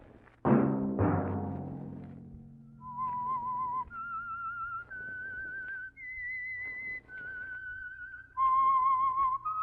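The signature whistled theme of The Whistler, a Signal Oil mystery radio program, follows a sharp percussive hit: a lone whistler carries a slow, clear melody of sustained notes that steps up and down against a soft orchestral background.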